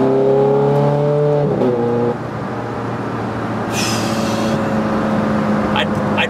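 A Ferrari F430 Scuderia engine revs hard and climbs in pitch, then drops sharply around a gear change or lift into a lower, steady drone, loud and close with a brief high hiss midway.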